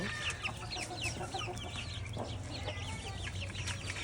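Several native chickens, small hens with a few young roosters, cluck and chirp in overlapping bursts over a low steady hum, a busy flock close by on a rooftop.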